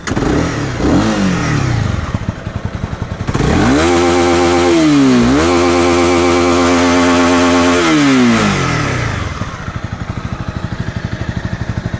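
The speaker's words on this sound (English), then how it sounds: "So now the time has come to hear the motorcycle sound. So let's quickly start the motorcycle." A Honda CB300R motorcycle is cranked by its starter, catches and idles, then is revved hard with a long rising and falling sweep before settling back to a close, loud, steady idle.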